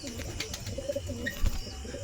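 A pigeon coos in a cage lit by a lamp, a few low soft coos in quick succession, close and clear with faint chirps around.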